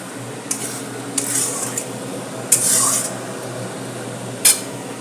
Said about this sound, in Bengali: এবার আমরা যে দইয়ের পেস্টটা করে রেখেছি সেটা আস্তে করে দেবো এবং আঁচ কমিয়ে দেবো